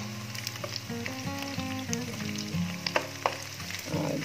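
Meat and garlic fry in hot oil with steady sizzling crackle, and a spoon scrapes and stirs the pan now and then. No one talks.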